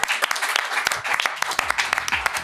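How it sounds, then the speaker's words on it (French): Audience applause for a departing guest at the close of a French talk show about dentistry: dense, steady clapping with crisp individual claps throughout, fairly close and continuous. "on applaudit Mathieu Polo, s'il vous plaît."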